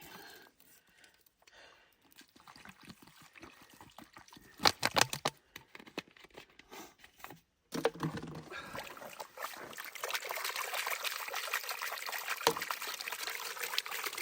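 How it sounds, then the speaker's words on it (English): Water sloshes and trickles in a gold pan as it is rocked and worked with water, soft watery splashes building after a quiet start and continuing steadily, with a brief clatter of gravel midway. "I'm gonna try working that with water."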